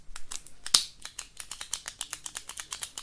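Rapid, crisp clicking of a ballpoint pen used for note-taking, repeated in a quick, fairly even rhythm of sharp close-up clicks with no talking.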